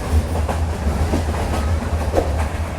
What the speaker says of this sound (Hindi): बीच जंगल में चल रही है ट्रेन